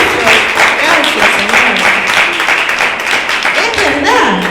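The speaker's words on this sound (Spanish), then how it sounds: "¡Aplausos!" Church congregation applauding and clapping through a religious program, a steady dense patter of claps filling the whole stretch with some voices mixed in.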